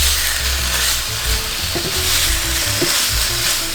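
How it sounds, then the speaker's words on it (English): Tofu sizzling and frying in a hot pan, a continuous crackling hiss with occasional scraping of a utensil stirring the pieces. "let it fry up on all sides, so this may take a minute"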